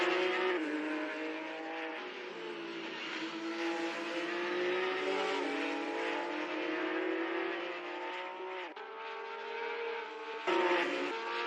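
Race cars in the NZ SuperLap virtual racing video game, with a loud sustained engine whine that rises and falls as the cars accelerate and shift, plus brief tyre squeals and no talk.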